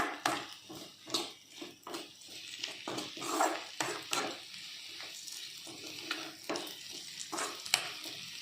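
Ivy gourd fries in a pan with a quiet, continuous sizzle, broken by repeated scraping and stirring knocks, with no talking.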